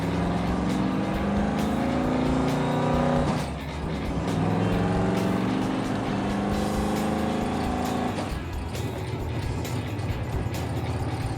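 A supercharged 1970 Dodge Super Bee cruising at highway speed, its engine droning low and steady with a constant hum of road and wind noise and a brief shift in tone partway through.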